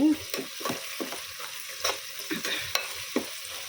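Cooked vegetables being mashed in a pot for veg biryani, a series of soft, wet squelching presses and scrapes in an irregular rhythm, heard close and fairly quiet, with no talk.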